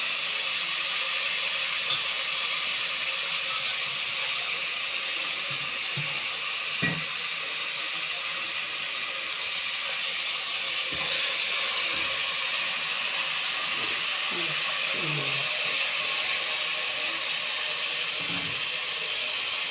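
A pressure cooker with chicken for biryani hisses steam steadily and loudly throughout, with a few faint clinks and knocks underneath.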